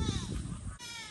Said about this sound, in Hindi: यहाँ पे भी एक बकरी है